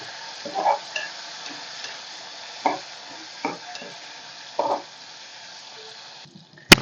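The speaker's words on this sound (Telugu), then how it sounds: "ఫ్రెండ్స్ ఈ విధంగా నూనె వేడైన తర్వాత ఎండు చేపల్ని దీంట్లోకి వేసుకొని ఫ్రై చేసుకొని పక్కన పెట్టుకోవాలి" Dried fish fries in hot oil with turmeric in a pan for an egg masala curry, a low hiss punctuated by several spaced bursts of spattering and scraping stirs, ending in a sharp click.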